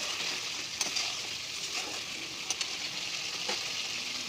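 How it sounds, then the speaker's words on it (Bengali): Spice paste sizzles softly in hot oil for a Bhola fish tel jhal curry: a steady, faint crackling hiss with a few sharper pops and the light scrape of stirring. "দেখো মশলাটা কত সুন্দর ফুটছে"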